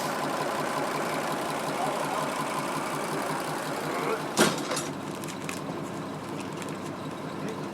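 A bus engine idles at about 80 degrees, a steady mid-pitched rumble with broadband noise that runs throughout, broken by a brief sharp clatter partway through, with voices talking over it.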